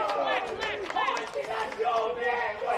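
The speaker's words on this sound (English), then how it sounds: "And just the crowd with some advice there for Jake Hines." Spectators at a senior men's Australian rules football match in the NTFA Premier League shout at a player, several raised voices calling out over a steady murmur of crowd noise.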